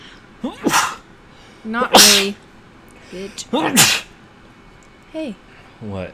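Loud, sharp sneezes burst out about three times in the Until Dawn video game, set between short spoken lines from characters nearby.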